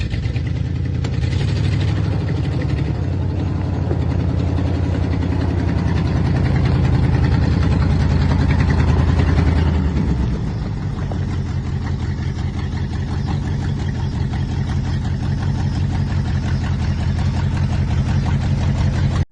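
Engine of a 1966 Jeep Gladiator idling, a steady close low rumble with a slight rise and change in tone about halfway through before settling back to an even idle, with no talking.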